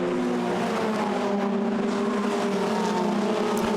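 A Formula Renault 2.0 single-seater racing at Monza in 2015 screams past, its high-revving engine a loud, sustained whine that shifts slightly in pitch as it goes by, with no voices over it.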